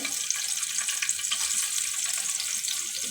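Chopped onion sizzles in hot oil in a wok while rui fish and eggplant bhuna is cooked, a steady, close, bright frying hiss running unbroken throughout with no talking.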